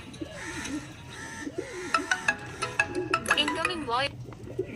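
Pigeons coo softly in the background while sharp clicking and tapping sounds come in quick bursts, and people's voices can be heard nearby.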